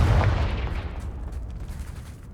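A Confringo fire spell blasts in Hogwarts Legacy, a loud booming burst right at the start that rumbles and fades away over the next two seconds with no voices.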